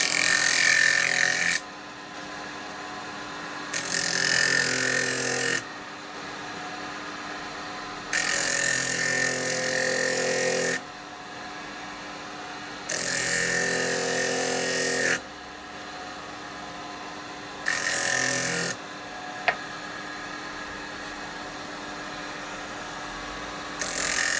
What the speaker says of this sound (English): Put my sanding disc on.